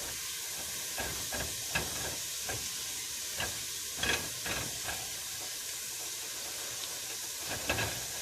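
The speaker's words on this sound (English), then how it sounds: "so saute a lot of garlic" Garlic sautéing in oil for lobster bisque, a constant close sizzling hiss broken by scattered scraping and stirring knocks, with no voices over it.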